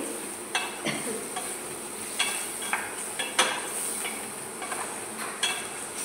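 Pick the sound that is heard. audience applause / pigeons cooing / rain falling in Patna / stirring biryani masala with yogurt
stirring biryani masala with yogurt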